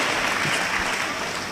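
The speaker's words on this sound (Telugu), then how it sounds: "గట్టిగా చప్పట్లు కొట్టి గట్టిగా దేవునికి గట్టిగా కొట్టాలి" A congregation at a Tuesday prayer meeting claps loudly for God, a dense, continuous burst of applause from many hands that is steady and close for its short duration.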